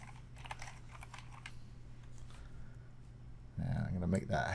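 Light clicking taps on a computer keyboard in the first part, faint under a low hum, before a louder voice comes in near the end.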